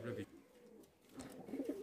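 Stick tumbler fancy pigeons in a loft give soft, low cooing calls in two short bursts with a brief pause between them, fairly faint and close by.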